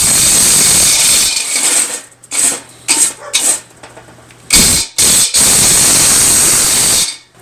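Power drill boring a 5/8 inch hole for a homemade solo stove, bursts of loud broadband grinding and whirring that stop and restart several times, close and without speech.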